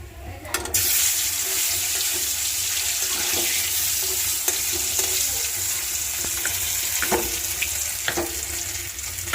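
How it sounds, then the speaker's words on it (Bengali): Fish dropped into hot oil in a home kitchen, giving a loud continuous sizzle and bubbling hiss that holds steady for the whole stretch, with a few soft clinks and no talk. "এই তো মাছগুলো দিয়ে দিব তেলে।"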